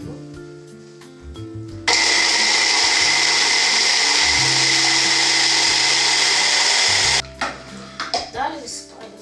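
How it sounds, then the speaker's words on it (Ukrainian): A blender roars steadily for about five seconds blending carrots, loud and close, with some clatter and handling noise just before and after it runs. "Насипаємо її в блендер, блендеримо"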